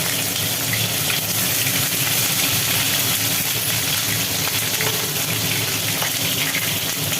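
Marinated chicken drops into hot oil and fries with a loud, steady sizzle and hiss. The crackle holds an even, close level from start to end with no voices.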